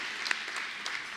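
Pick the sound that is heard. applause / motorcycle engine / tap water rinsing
applause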